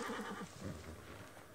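A horse in the video game Far Cry 6 gives a short whinny at the start, with soft hoof clip-clop underneath and no talking.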